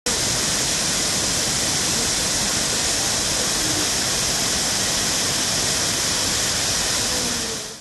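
Muppochhara waterfall at Bilaichhari, Rangamati roars as a loud, steady broadband rush of falling water, close and continuous throughout with no voices.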